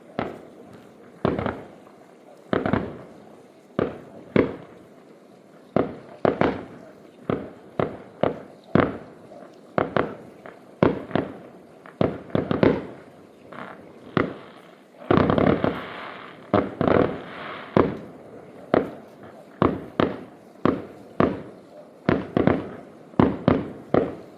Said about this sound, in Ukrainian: Ой, які класні салюти!